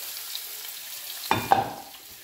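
Onions, garlic and ginger hit hot sesame oil in a pan, giving a steady hiss with two sharper sizzling bursts as they land; no talking.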